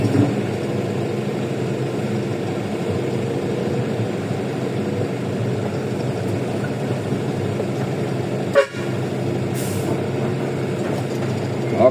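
A dump truck's diesel engine idles low and steady while it reverses in rain at a dumping site, with one brief sharp hiss or clank partway through.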